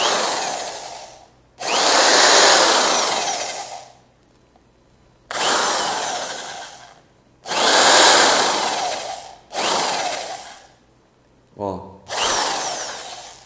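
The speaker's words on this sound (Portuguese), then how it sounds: "Era bom se a furadeira girasse menos" An electric drill spins rolled sandpaper inside the cylinder of an air rifle, whirring and rasping in five or six long loud bursts, spinning up and winding down between pauses.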